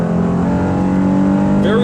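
A 2016 SUV in sport mode accelerates hard, its engine note holding a steady loud drone with a rising tone near the end, heard from inside the cabin.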